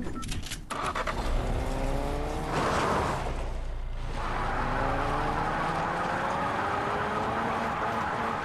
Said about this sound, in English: we doing donuts all day